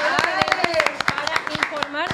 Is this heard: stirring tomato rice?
no